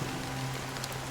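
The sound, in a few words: rain falling in Honkai: Star Rail video game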